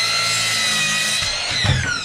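A power saw trims the end of a wooden countertop for a tiny log cabin, giving a loud, steady whine with a shifting pitch that drops as the cut finishes.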